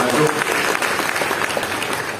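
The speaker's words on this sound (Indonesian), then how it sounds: "Yang setuju boleh berikan tepuk tangan dulu yang paling meriah." A church congregation bursts into loud, dense applause that holds steady for a couple of seconds, filling the hall with sustained clapping.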